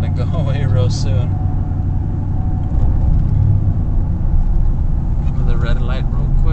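Nissan Titan pickup fitted with a Magnaflow exhaust, its air intake drawing hard, giving a steady deep engine rumble throughout with voices talking over it.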